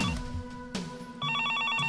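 Telephone ringing in the Higurashi video game, a faint electronic bell trill that pauses briefly and then resumes in a steady repeating ring.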